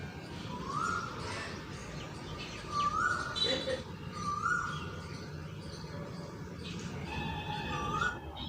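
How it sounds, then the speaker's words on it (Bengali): An Asian koel calls repeatedly in the quiet morning, a rising two-part whistle roughly every one to two seconds, somewhat distant over a low background hum. "সেই জন্যই এই কোকিলের ডাকের আওয়াজটা পাওয়া গেল"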